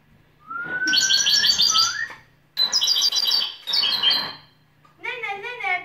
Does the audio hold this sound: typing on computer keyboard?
no